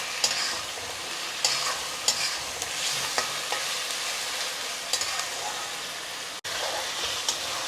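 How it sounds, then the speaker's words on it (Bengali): Ginger, garlic and tomato sauce fry in a pan with a steady sizzle, punctuated by sharp spoon taps and scrapes against the pan, heard alone at moderate level. "আপনারা অবশ্যই আদা রসুন এবং টমেটোর সসটা একটু ভেজে নেবেন।"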